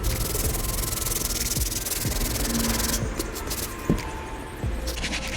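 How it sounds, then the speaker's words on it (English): Vigorous scrubbing of Jordan 11 UNC sneakers with a medium brush, a dense close rubbing hiss that runs steadily, easing slightly near the end with a few brief bumps. "now we're gonna go with the medium brush. Scrub them all over again."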